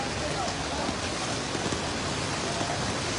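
Steady rain pours down on a flooded airport road in Sylhet, a dense continuous hiss with no breaks, close and fairly loud throughout.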